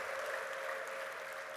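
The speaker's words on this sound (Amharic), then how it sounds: "በዚህ ጌታ እልልታና ጭብጨባ ክብርን ሰጠዋለን።" A church congregation claps in praise, a faint, distant and even wash of clapping that holds steady for a brief moment.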